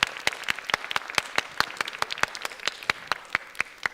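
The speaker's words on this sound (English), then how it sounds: "by that round of applause" An audience claps after a Bharatanatyam arangetram performance: sharp, distinct claps in a fairly regular rhythm, loud and close, with no voices over them.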